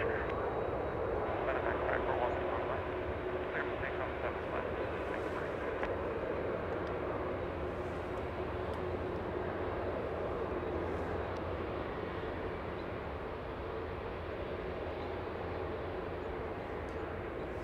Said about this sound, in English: That's 747 on a good old Kilo.